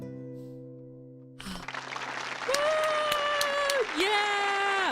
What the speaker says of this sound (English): I'm liking everybody's claps.